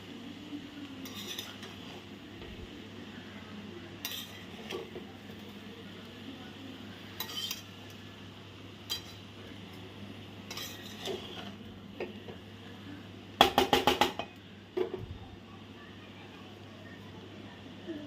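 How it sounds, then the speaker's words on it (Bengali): A utensil stirs fried rice with a little vinegar in a pan, giving light scattered clinks and scrapes against the metal, faint and intermittent, with a quick cluster of louder taps toward the end. "ভিনিগার সামান্য একটু আবারও খুব হালকা হাতে নাড়াচাড়া করে এটা মিশিয়ে নিতে হবে"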